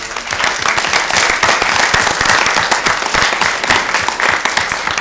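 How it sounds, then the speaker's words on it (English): An audience at a school event applauds the parents present, with dense, sustained clapping from many hands filling the room at steady volume for the whole stretch. "have a round of applause for the parents that are here"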